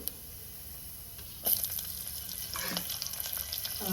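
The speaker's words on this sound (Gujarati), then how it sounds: "જો તેલ આવી ગયું છે રાઈ તતડી જાય એટલે થોડું જીરું નાખીશું થોડી હિંગ નાખીશું લીલા મરચાં નાખી દઈશું" Mustard seeds, cumin, asafoetida and green chilies go into hot oil, and after a quiet moment a bright, crackling sizzle jumps up and keeps spitting with uneven pops.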